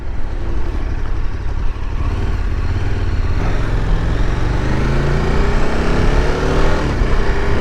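A 2023 KTM 1290 Super Adventure S motorcycle with a quick shifter pulls hard under a loud, continuous engine roar, its pitch climbing through several gear changes while wind rushes past.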